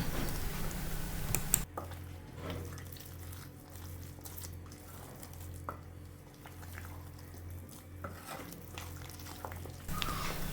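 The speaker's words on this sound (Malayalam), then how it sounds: "ആവശ്യത്തിന് വെള്ളമൊക്കെ ഒഴിച്ചു കൊടുത്തിട്ട് ഇത് നന്നായിട്ട് ഒരു കുഴമ്പ് രൂപത്തിലാകണം വരെ നമുക്കൊന്ന് കുഴച്ചെടുക്കണം" Wheat flour and banana batter being stirred and kneaded with water into a thick paste, soft wet squelching and scraping strokes repeating steadily, close and fairly quiet, no talking.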